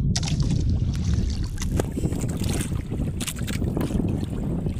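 Traditional wooden fishing boat out on open water, a steady close rush of wind and water against the hull with faint splashes, no voices.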